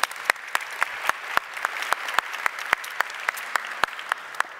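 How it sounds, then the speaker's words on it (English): Steady audience applause at a hardware startup showcase, dense clapping from a sizeable crowd with sharp individual claps standing out, sustained throughout without speech. "let's give them a round of applause"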